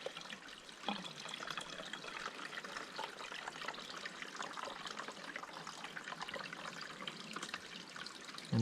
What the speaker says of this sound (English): And as you run the water down, just keep folding the bag.